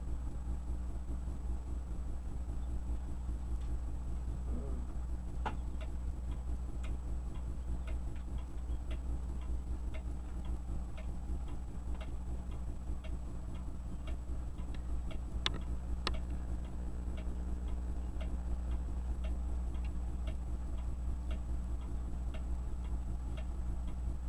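A 2-hertz magnetic flywheel generator runs steadily, giving a soft regular ticking over a constant low hum, with a few sharper clicks along the way and no talking.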